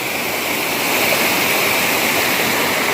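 A wilderness river rushes in a loud, close, unbroken roar of flowing water, steady throughout with no voices.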